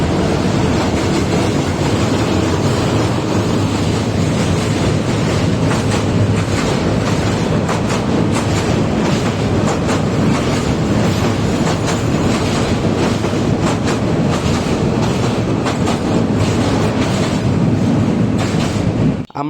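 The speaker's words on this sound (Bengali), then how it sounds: "আমার সেখানে দাঁড়িয়ে থাকা অবস্থায় একটি ট্রেন চলে যায় আমাদের পাশ থেকে।" A train rolls past close by on the Kanchan rail bridge in Dinajpur, a loud, continuous rumble with rapid clickety-clack of wheels on the rails lasting throughout before cutting off abruptly.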